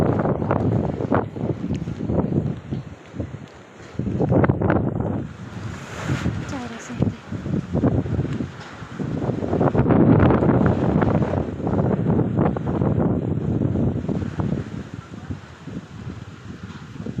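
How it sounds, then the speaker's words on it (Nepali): A windstorm with hail-battered tents nearby roars in strong, surging gusts that buffet the microphone loudly and continuously, rising and falling in waves throughout. "क्लियर हावा चलिदिरहेको छ नि चाहिँ।"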